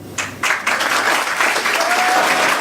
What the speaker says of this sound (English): Can we give Rama a big round of applause, please